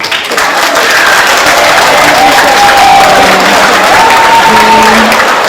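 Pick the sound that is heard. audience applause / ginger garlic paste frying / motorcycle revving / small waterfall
audience applause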